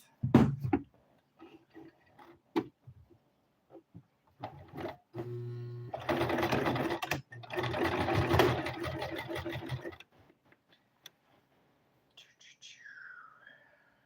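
A sewing machine runs in short bursts while stitching a shirt, a close mechanical whirring buzz lasting a few seconds, with quiet talking and faint rustles before and after.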